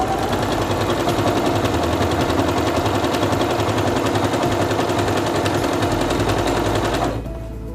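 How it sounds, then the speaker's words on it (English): A SINGER Quantum Stylist 9960 sewing machine runs a stitch pattern at triple elongation, producing a loud, fast, steady mechanical rattle up close that cuts off abruptly near the end. "Now let's sew it by 3 elongation."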